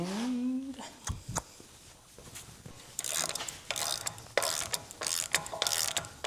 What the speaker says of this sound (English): I'm going to just draw it through with the regular ratchet until I bottom out.